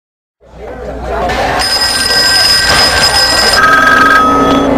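A telephone bell rings amid layered movie phone scenes, a steady loud ringing with bright tones that starts after a brief silence and holds through to the end.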